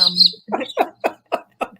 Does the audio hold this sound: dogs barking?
no